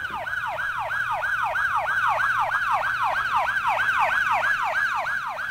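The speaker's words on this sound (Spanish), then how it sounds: "¡La ambulancia! ¡La ambulancia!" A loud, fast wailing ambulance siren sweeps up and down in a steady rapid cycle, close and continuous throughout.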